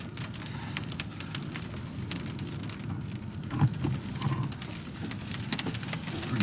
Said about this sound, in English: Pretty crazy storm.